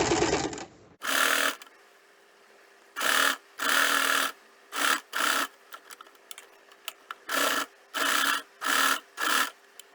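A sewing machine fitted with a zipper foot stitches along piping in about eight short, rapid whirring bursts, each loud and close and separated by brief quiet pauses with small handling clicks.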